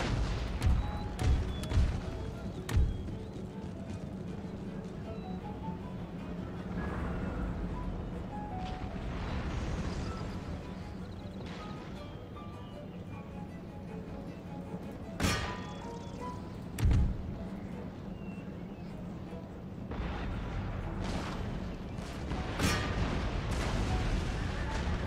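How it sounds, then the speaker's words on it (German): Artillery fire in the video game Empire Total War: several heavy booming thuds, a cluster early on and more around the middle and late parts, set against a continuous battlefield rumble. "die Arti trifft ja mal wieder komplett daneben"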